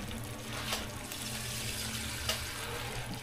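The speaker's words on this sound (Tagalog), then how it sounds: "So, lagyan natin siya ng tubig ngayon." Water pours into a cooking pot of Filipino pork asado in a kitchen, a steady close rushing splash that runs continuously with no talk over it.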